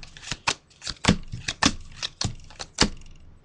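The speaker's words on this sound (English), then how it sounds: "Shuffle the deck a little bit." Quick, crisp riffling snaps repeat in an uneven rhythm, close by and fairly quiet, like cards being shuffled by hand.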